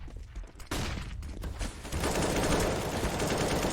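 Rapid bursts of gunfire and headshots in a Counter-Strike: Global Offensive esports match, dense overlapping rifle fire that swells into a loud sustained volley.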